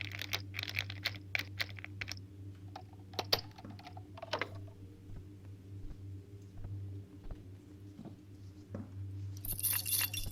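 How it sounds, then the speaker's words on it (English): Lock being picked in the stealth video game The Dark Mod: a run of small metallic clicks and ticks, irregular and close, over a steady low hum, with a brighter rattle near the end. "Let's actually see if we can pick the lock on this in the meantime."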